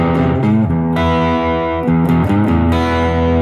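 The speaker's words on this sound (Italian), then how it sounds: "ed ecco che il suono si rifà più, eh, più distorto, più corposo" Electric guitar with volume and tone turned back up, played through distortion from the middle pickup, giving a thick, sustained, crunchy tone; notes and chords ring continuously and loudly, with brief changes between them and no talking.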